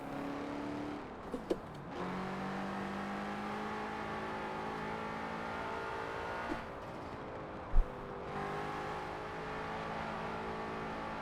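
A BMW M5 driven in the Forza Horizon 4 racing game, its engine droning at a steady moderate pitch with gentle shifts in revs, a couple of short clicks and a soft thump, no voices.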